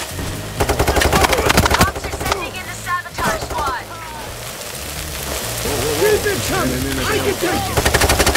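Rapid automatic gunfire in the video game Payday 3, dense bursts of shots close and loud, pausing briefly before more volleys, with game voices talking over the shooting.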